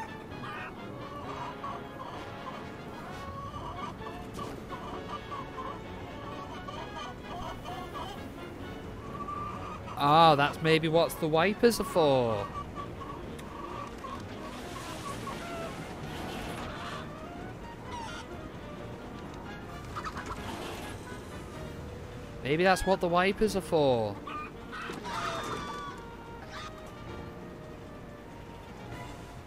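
A chicken in a Wallace and Gromit video game clucks in two loud, agitated bursts amid quieter game sounds, while someone talks in between.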